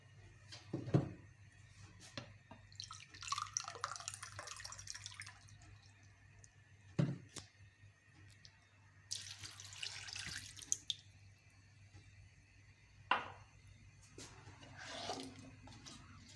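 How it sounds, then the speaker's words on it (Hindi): Water poured into a pan of washed beetroot for halwa, heard as faint, intermittent splashing and dripping close by in a quiet kitchen, with brief clinks between the pours. "ये 2 कप इसमें पानी मैंने ऐड करना है"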